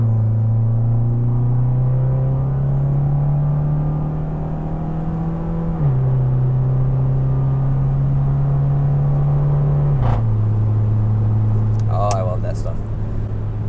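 A car on a cold morning accelerating up to highway speed, its engine droning steadily and dropping pitch twice at gear changes, loud and close inside the cabin.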